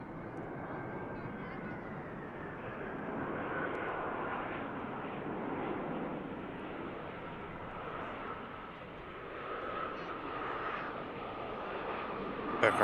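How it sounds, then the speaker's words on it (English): A jet airliner landing at Manchester Airport, a broad steady engine roar sustained at moderate distance throughout, with a gusty, windy texture and no clear peaks. "Aircraft touches down."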